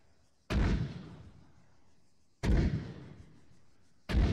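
Mortar artillery fire in the military game Arma 3 Antistasi: three heavy booming shots at roughly two-second intervals, each a loud low thump followed by a rumbling decay, with no talk over them.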